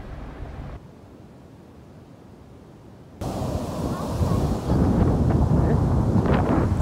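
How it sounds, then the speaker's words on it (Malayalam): Sea waves and wind at Payyambalam beach in Kannur, a steady roar of surf and gusting wind buffeting the microphone, quieter at first and then swelling louder and fuller. "നല്ല തിരയുണ്ട്, നല്ല കാറ്റുണ്ട്."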